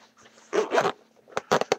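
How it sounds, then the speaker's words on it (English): Zipper closing on a tactical tablet case with MOLLE straps: a few short, close rasping pulls, two longer strokes followed by a quick burst of brief zips, in an otherwise quiet room. "zips up completely."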